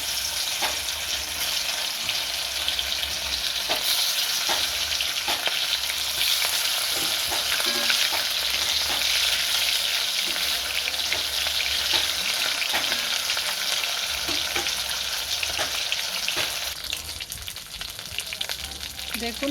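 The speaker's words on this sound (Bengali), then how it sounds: "এবার মাঝারি আছে মাছগুলোকে হালকা করে ভেজে নেব।" Rui fish pieces shallow-frying in hot oil in a kadai, giving a steady, loud, continuous sizzle with occasional crackles and pops throughout, no talking.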